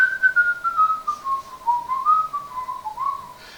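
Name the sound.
person imitating whistling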